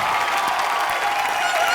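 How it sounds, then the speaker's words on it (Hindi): A studio audience at a live comedy show applauds in a loud, dense, sustained roar of clapping, with faint cheering and voices mixed in. "जोरदार तालियां हो जाए।"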